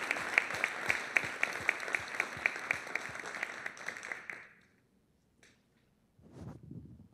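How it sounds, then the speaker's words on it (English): A county commissioners' meeting room claps for county employees reaching service milestones, individual claps clearly audible for about four seconds before the applause stops, followed by quiet and faint room noise. "I wish the board would lead us in another round of applause"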